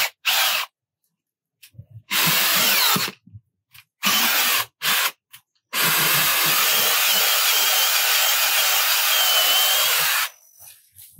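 A hand tool grinds and scrapes while screwing a hole into soil, in several rough bursts separated by pauses, ending in one long steady stretch of gritty scraping, close and loud with no talk.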